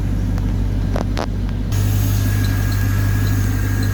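Chevrolet Corvette C5 pushrod V8 idling under an open hood, a steady low hum that grows slightly fuller partway through, heard up close with a few faint clicks and no talking.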